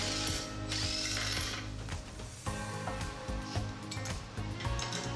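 A wrench or socket ratchets steadily, clicking close by as it loosens a jam nut on a Kubota tractor brush guard, with no talk over it.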